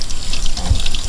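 Plant roots rinsed under running water, a close, steady splashing gush from a tap into a sink with a bright hiss and a small thud partway through, lasting about a second.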